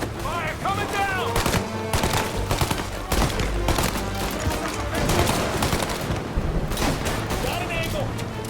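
Rapid bursts of gunfire in the game Mafia Definitive Edition during a farmhouse shootout, dense crackling volleys and booms layered under excited shouting voices.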